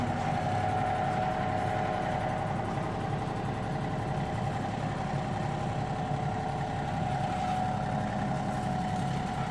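Vehicle engine idling and pulling a trailer-mounted BBQ smoker, a steady low mechanical hum that stays constant and moderately loud throughout with no other sounds over it.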